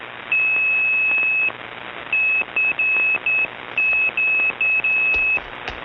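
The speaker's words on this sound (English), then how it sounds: "it does have the sending call unit, which sounds like this" A sending call unit on a tube radio transmitter keys a steady single-pitch tone in a series of beeps: one long beep, then several shorter ones in an uneven pattern, each sounding over a background hiss.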